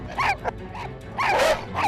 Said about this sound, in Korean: 놀랍게도 미니가 짖는 소리에 다 짖네요